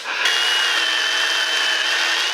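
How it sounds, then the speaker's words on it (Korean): An electric chainsaw starts abruptly and then cuts into wood with a loud, steady, high whine that holds for a couple of seconds. "아빠는 전기톱 담당"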